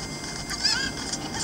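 A cuckoo chicken from the video game Zelda Ocarina of Time 3D gives a brief honking cluck over steady game background noise, fairly faint and alone with no talk.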